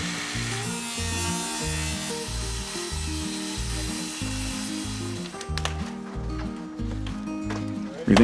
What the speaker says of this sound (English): he reaches for his saw and gets after cutting that sheet